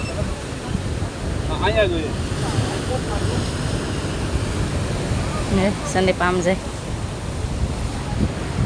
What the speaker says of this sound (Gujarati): દરિયો અટાણે છે ને ભરાય છે ને એટલે એવું છે મોટા મોટા મોજા વળે